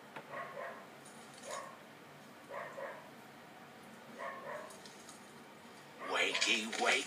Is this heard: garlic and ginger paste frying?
no